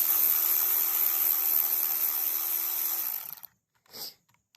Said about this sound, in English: I'm using the power tools because I'm one-handed